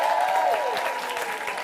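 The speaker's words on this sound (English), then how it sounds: "Keep that applause going" A live studio audience claps and cheers at a comedy improvised musical show, a steady wash of applause with a sung or whooped voice gliding downward over it near the start.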